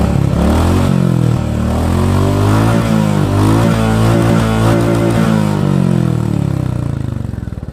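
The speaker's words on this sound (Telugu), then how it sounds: "ఒకసారి ఎగ్జాస్ట్ కూడా చూపిస్తాం మీకు సౌండ్." Royal Enfield Classic 350 single-cylinder engine revving hard through its exhaust, a loud, close, continuous thumping roar with shifting pitch as the throttle rises and falls, easing off at the very end.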